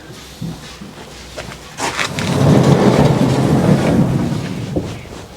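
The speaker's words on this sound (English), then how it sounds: "as you can see from all the rain that we've got" Steady rain pours down on a farm with a low rumble of thunder swelling in the middle, heavy and close, no voices.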